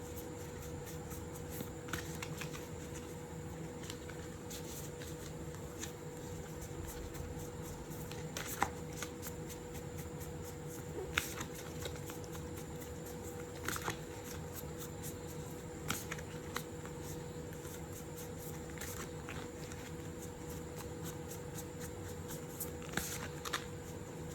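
Tarot advice cards shuffled by hand in a quiet room, a steady soft riffling with occasional sharper flicks and taps, close and alone without talk.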